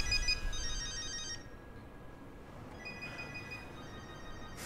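A home telephone ringing indoors, two electronic ring bursts separated by a pause, clear and moderately near, with no voices.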